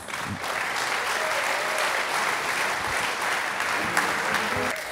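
Sustained audience applause at the opening of the Wiga 2023 trade fair as a speaker, board chairman Hans-Jörg Luzi, comes on stage, a dense, even roar of many hands clapping throughout with little variation.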